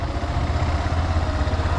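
A motorcycle ridden during a driving test engine runs steadily with a low rumbling drone close by, holding gentle throttle without a sharp rev, alone with no talk.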